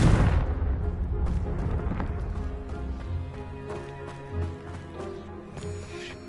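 A Confringo spell explosion in the Hogwarts Legacy video game: a loud booming blast at the start that decays into a rumbling tail, followed by softer rattling and crackling.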